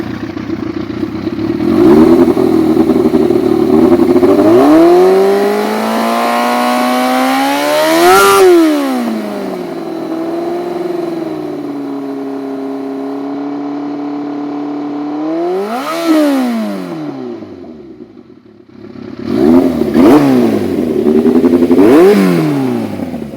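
Modified Yamaha FZX 750 motorcycle engine revving up close and loud, climbing to a sharp peak, dropping back to a steady idle, then rising again in a few shorter throttle blips, with no talking.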